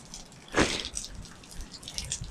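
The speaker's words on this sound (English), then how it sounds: "That's only that's really tiny, but I bet it can be a really good waterfall." Tiny waterfall trickling on a Scottish beach, a soft, close patter and splash of running water with one brighter splash near the start, fairly quiet overall.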